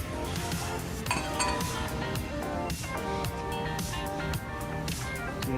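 Glassware clinks and chinks repeatedly as pieces are handled on shelves in an IKEA store in Dubai Festival City, bright irregular taps close by over steady store ambience.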